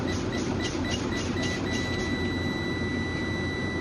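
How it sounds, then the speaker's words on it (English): A truck's low air pressure warning buzzer sounds as a steady, faint electronic tone over a constant low hum, holding without a break. "my buzzer and light came on"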